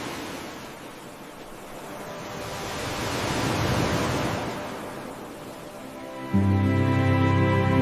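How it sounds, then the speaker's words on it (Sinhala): Steady roar of surf breaking and washing ashore on a sandy, rocky beach at Kirinda, Sri Lanka, swelling louder midway, with wind noise over the microphone and a louder low rumble near the end. "මේ තමයි රන්වන් වැලිතලාව සහ රළු ගල්පර සහිත සුන්දර වෙරළ තීරය"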